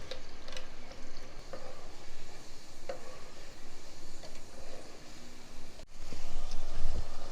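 A soft, continuous sizzle of ground onion, garlic and ginger paste frying in a pan, with occasional stirring clicks and a brief bump toward the end.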